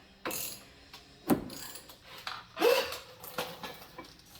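Hub bolts are threaded in by hand and snugged on a front brake rotor of a Dodge Ram 3500 pickup that had sat in a field for six years, giving scattered metallic clicks, ratcheting and clanks at close range.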